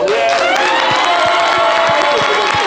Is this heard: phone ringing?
no